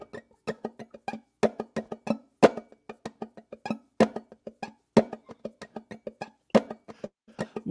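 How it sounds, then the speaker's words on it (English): Quick, dry plucked notes in a steady driving rhythm, short and clipped with little ring between them, from a clawhammer banjo played with muted strings. "if with the muted strings, it sounds like this."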